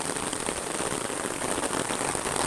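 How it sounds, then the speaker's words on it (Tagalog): Heavy rain pours down steadily and loudly on a narrow path too small for a vehicle, a dense, unbroken hiss with no voices. "Ayan oh, malakas ang ulan."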